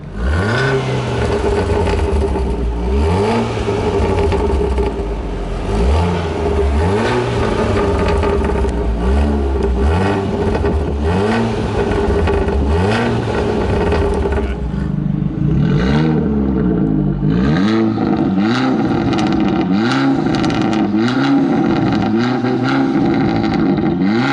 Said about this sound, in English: firstly, the valve closed, so in quiet mode, and then the powermotive valve open in Asbo mode